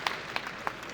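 Audience applauding a speaker at a men's mental health question-and-answer session, a brief burst of steady clapping with a few louder individual claps.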